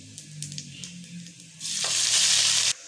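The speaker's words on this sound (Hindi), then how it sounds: "और साथ ही अब हम लोगों ने इसके अंदर प्याज ऐड करेंगे फ्राई होने के लिए।" Onions drop into very hot oil with garam masala and break into a loud, bright sizzle partway through, stirred close by, after a quieter stretch of low frying, with no talk.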